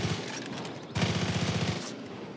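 Rapid automatic gunfire crackles in the video game Far Cry 5, two sustained bursts of fast, evenly spaced shots, the second louder and closer, with no talk.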